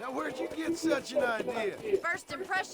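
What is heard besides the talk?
None of the usual background noises is heard.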